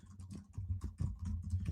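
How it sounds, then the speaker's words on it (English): Rapid typing on a computer keyboard, a run of close, crisp key clicks in uneven bursts with no voice over them. "I love typing live."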